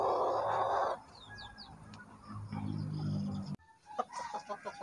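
A Brahma rooster clucks in a short series of quick, close calls after a stretch of rustling and background noise.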